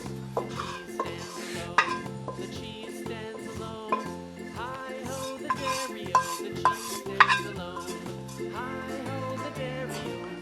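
Crispy stir-fried pork cracklings poured gently from a pan, a light sizzle with irregular clinks and rattles of utensils and cookware under background music.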